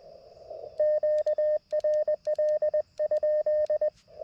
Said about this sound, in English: So hopefully you can hear that side tone.